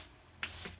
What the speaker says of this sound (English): Using the Charlotte Tilbury Setting Spray,